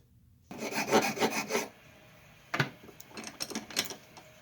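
A hand file rasps across the metal of a shop-made broken screw remover tool as its teeth are cut, in two bursts of steady back-and-forth strokes separated by a short pause, close and fairly loud.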